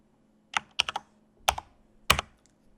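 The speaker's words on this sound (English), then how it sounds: "I'm going to type my new password in." Keys on a computer keyboard are tapped in a few short, irregular bursts as a password is typed, close and fairly quiet in an otherwise silent room.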